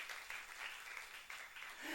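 A church congregation at a youth service claps together, a steady, dense applause with no break through the short stretch.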